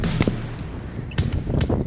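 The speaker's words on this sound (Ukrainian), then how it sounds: "Чотири постріли." Four gunshots fired during military training with Ukraine's armed forces, heard as sharp, fairly distant cracks spread unevenly across the moment over low background rumble, with no one speaking.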